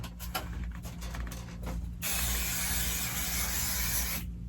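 Spray adhesive hisses steadily from a can for about two seconds while a quilt is basted on a wall, following a few short mechanical clicks and rattles.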